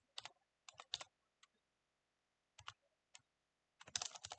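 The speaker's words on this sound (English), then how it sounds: "then you want to type out this configuration" Sparse bursts of computer keyboard typing, quick clusters of close, crisp key clicks separated by pauses, ending in a denser flurry of keystrokes; no talking.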